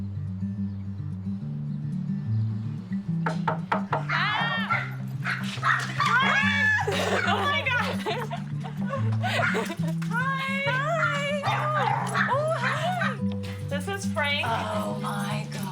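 Several dogs bark, yip and whimper in excited, overlapping bursts over a steady low hum, while people talk and laugh nearby.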